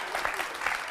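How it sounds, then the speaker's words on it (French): A studio audience on a French television show applauds, a brief burst of dense, steady clapping from many hands. "On peut l'applaudir très fort."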